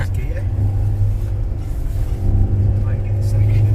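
A camper van's engine labours loudly in first gear while climbing a steep road in the Lake District, a steady low droning rumble with rising revs, heard from inside the cab as people talk over it.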